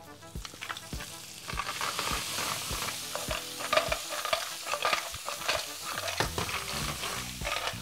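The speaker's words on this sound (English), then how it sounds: "That is one of my favorite sounds in the kitchen, just tossing mussels and clams." Clams and mussels with garlic tossed in a hot pan, sizzling steadily while the shells clatter and rattle in quick bursts of stirring, close and fairly loud, with no voices.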